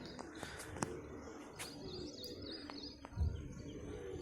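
Pigeons cooing and chirping at a rooftop loft, faint and somewhat distant, with brief bird calls and short sharp chirps scattered over a low background rumble, no talk.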